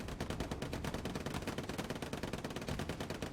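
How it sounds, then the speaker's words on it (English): Rapid automatic gunfire and explosive bursts from the World War II shooter game Hell Let Loose rattle on without a break, dense and loud, with no voices. "let's see what happens with all of these smokes and all these grenades and all these explosives going off"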